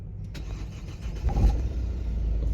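A 1.9 dCi diesel engine in a Renault Megane 3 cranks and catches, rising into a steady running rumble, close by.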